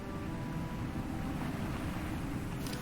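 A waterfall in the video game FEZ gives a continuous, soft broadband rush of falling water, even and unbroken, fairly faint, with no talking.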